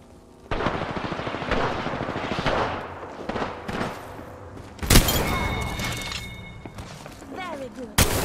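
Gunfire from the Volt weapon in a video game: loud, close, rapid bursts and sharp cracks, with a big blast near the middle and a brief break before firing resumes.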